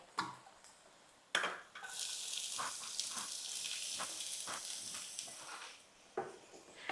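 Chopped onion frying in oil in a pan for a Marathi ridge gourd peel chutney, a steady bright sizzle with scattered stirring clicks and a sharp splash as the onion hits the hot oil, no talk.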